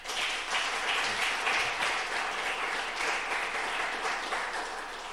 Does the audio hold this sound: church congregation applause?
yes